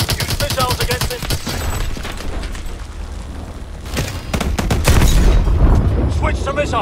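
Tank in Advanced Warfare firing its main weapon and missiles: rapid bursts of gunfire followed by heavy booms and explosions, loud and close, with a roaring barrage building toward the end.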